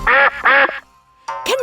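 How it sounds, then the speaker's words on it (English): A mallard duck quacks twice in quick succession, loud and close, followed by a pause and then another burst of quacking. "Which sound does the mallard duck make?"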